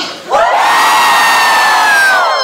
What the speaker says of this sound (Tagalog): Subukan natin sumigaw lahat.